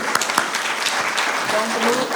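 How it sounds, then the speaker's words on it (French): Brief applause from a startup-fair audience at a tech event, a few sharp claps over a wash of clapping, with a voice emerging faintly toward the end. "Il faut l'applaudir."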